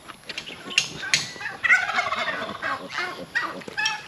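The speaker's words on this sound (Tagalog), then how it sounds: "tamang tama lang kakarating lang ng pabo" A turkey gobbles loudly and nearby in repeated rattling bursts, one after another over a few seconds.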